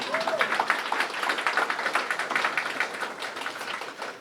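A class bursts into dense, steady applause during a lesson on Caribbean revolution, many hands clapping close and loud for several seconds with no talk over it.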